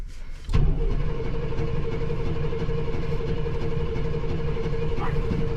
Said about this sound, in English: The motor definitely turns over.